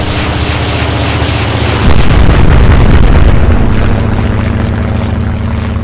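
A rocket fired from an aircraft during an airstrike in the naval combat game Atlantic Fleet, a loud whooshing burst rising over a steady engine drone, lasting about two seconds before the drone continues alone.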